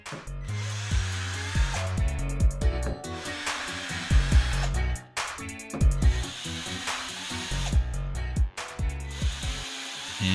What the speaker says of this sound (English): We'll go ahead and use our corner support to drill a couple of pilot holes here.